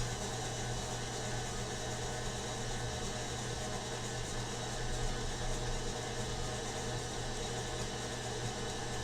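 Electric mixer beating powdered sugar pie filling for an Arkansas possum pie: a continuous, even motor whir with a steady low hum, running alone without pause at moderate loudness.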